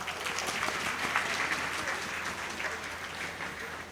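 Steady audience applause fills a product opening ceremony for a Tri-Fry launch, many hands clapping together at an even, moderately distant level for the whole stretch without a break.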